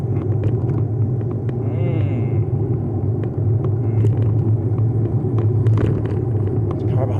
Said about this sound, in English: There's a car behind you.